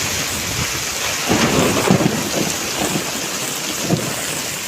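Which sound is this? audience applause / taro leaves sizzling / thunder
thunder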